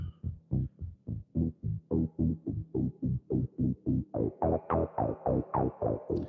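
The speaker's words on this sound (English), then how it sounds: "Like I said, I love the spring reverb." A Moog Grandmother synthesizer pulses out a rapid, steady sequence of plucky notes climbing in pitch, each one trailing a springy, metallic spring reverb.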